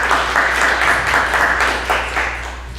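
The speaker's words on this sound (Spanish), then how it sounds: "Nuevamente les pido reiterar un voto de aplausos por su participación" Audience at a university academic lecture gives a short burst of applause, many hands clapping in a steady, moderately loud patter that continues evenly for a few seconds.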